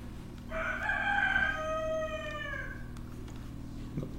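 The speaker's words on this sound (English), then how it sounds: "Two cockerels joining in the chorus now." Two roosters crow one after another, their drawn-out calls overlapping for a few seconds against a steady low background hum, fairly close and clear.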